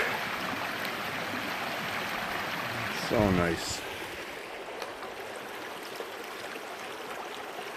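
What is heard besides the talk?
babbling brook flowing along a forest trail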